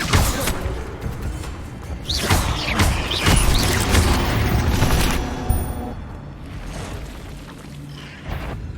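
Incendio fire spells are cast repeatedly in the video game Hogwarts Legacy, bursting and roaring loudly in dense overlapping blasts that swell and then ease over several seconds.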